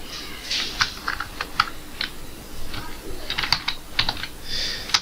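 Fingers tap on a computer keyboard during data entry in Tally ERP 9, bursts of quick, crisp key clicks with short pauses between them, close and fairly quiet.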